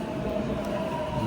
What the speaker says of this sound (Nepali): उतापट्टि ट्रेन आयो।